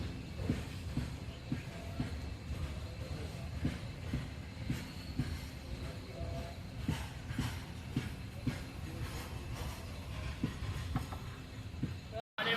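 A passenger train on the Mumbai to Konkan route in India, heard from inside as it slows near Sawarde station, with a rhythmic clatter of wheels over rail joints and a steady low rumble.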